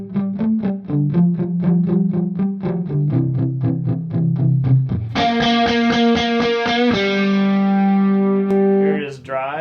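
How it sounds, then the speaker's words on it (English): A distorted electric guitar plays a fast palm-muted riff, then rings out sustained heavy chords, loud and saturated with no talking. "I'm just gonna crank the amp distortion up here in just a minute."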